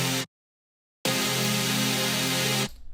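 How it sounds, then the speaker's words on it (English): Bright, buzzy sawtooth synth layer from an NCS electronic track, sustained chord tones that cut off, pause briefly, return and hold before stopping, loud and alone. "First of all, we have this saw sound."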